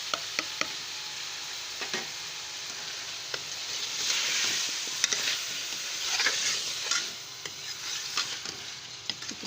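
Potatoes and frozen peas fry in a hot pan for a curry, a steady sizzle broken by repeated scraping clicks of a spoon stirring, close and fairly quiet with no talking.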